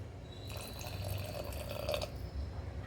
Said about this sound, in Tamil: நான் கொஞ்சம் சுடு தண்ணி சேர்த்துக்கிறேன்.